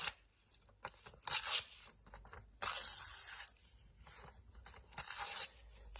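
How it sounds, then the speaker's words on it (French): Paper is torn into small pieces by hand in a quiet room, several short, crisp ripping bursts close up, separated by pauses, with no talking. "Vous allez déchirer le papier, les bouts."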